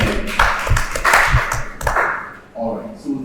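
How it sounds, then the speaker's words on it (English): A few scattered hand claps from a training-workshop audience in Kano, applauding a trainee, come in uneven bursts, with a voice talking over and after them. "a round of applause for our guy"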